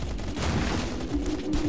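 Rapid M4 assault rifle fire in a mobile shooter game played on an iPad: a dense, continuous fusillade of close, loud gunshots with crackling bursts throughout.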